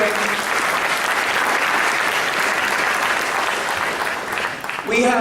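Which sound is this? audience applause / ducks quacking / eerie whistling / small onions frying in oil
audience applause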